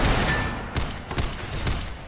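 Missiles fire in the video game Synthetic: Legion Rising, a few sharp, explosive bursts spaced out over a steady rumbling game soundscape.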